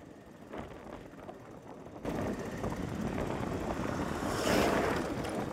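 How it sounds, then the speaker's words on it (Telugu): Water flows over a small check dam on a village stream along the road between Rampalli and Nandavaram, a steady broadband rush that grows louder after the first two seconds, mixed with wind noise and no talking. "ఇక్కడ చిన్న వాగుంది, చెక్ డ్యాము."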